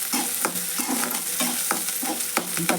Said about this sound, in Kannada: ಈಗ ಎಣ್ಣೆ ಒಳಗೆ ಉಳ್ಳಾಗಡ್ಡೆ ಕರಿಬೇಕ್ರಿ